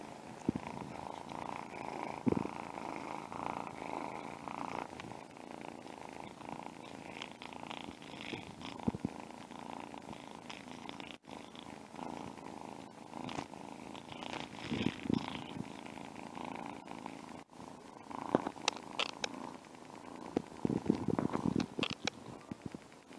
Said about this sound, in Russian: Мурлычет, не переставая.